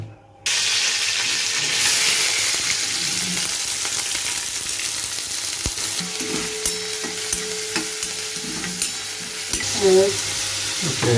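Hot oil sizzles steadily in a kadhai set up for a Marathi-style fish curry, a continuous bright crackle with scattered stirring clicks and a few louder spatters near the end, with no talking.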